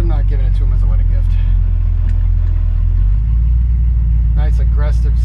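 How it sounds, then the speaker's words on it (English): A 1954 Chevy 3100 pickup engine idles with a deep, throbbing exhaust rumble that runs steadily throughout, while someone talks over it near the start and end. "Nice aggressive sounding exhaust."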